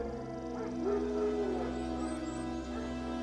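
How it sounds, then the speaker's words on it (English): Wild dogs in The Witcher 3, faint distant whimpers and howl-like yips drifting over a low steady ambient hum, soft and sparse with no talk. "Wild dogs. Yes. More dangerous than wolves."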